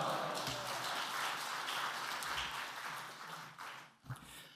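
A church congregation welcomes the pastor with applause, a soft, dense wash of clapping heard from a distance that fades near the end.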